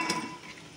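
Cashews fry in ghee in a pan with a soft crackling sizzle and a brief stirring scrape at the start, close and steady, with no voices.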